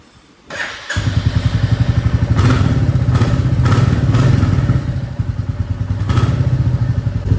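A Royal Enfield Bullet motorcycle, left standing unused for a long time, starts with a thud at about one second and settles into a loud, steady single-cylinder thumping idle up close, with a few sharp rev blips and no talking.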